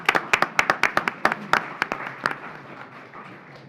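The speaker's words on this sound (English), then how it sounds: "We'll give you a round of applause" A small audience at a county commission meeting gives a brief round of applause, crisp close hand claps in a quick run that softens and tapers away after a few seconds.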